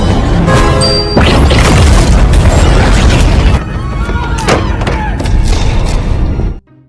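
Loud crashing blast of an exploding kitchen in an Iron Man action film scene, a dense sustained roar of smashing debris and booms lasting several seconds before cutting off abruptly.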